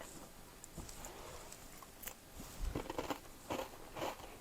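Someone bites into crispy homemade sourdough discard crackers flavoured with dill, giving a few quiet crunches that grow into clustered chewing crunches toward the end, close and soft with no talking.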